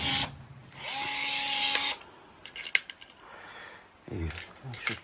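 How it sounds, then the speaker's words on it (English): Rivets being set into freshly drilled holes on a Land Rover Defender TD5 during a mild restoration, heard as a sustained mechanical whir followed by several short, sharp clicks and snaps close by. "Holes drilled, rivets in. Matter of just riveting that to that now."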